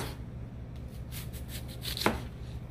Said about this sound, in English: Alright, turn it to the side. And this one. Chop.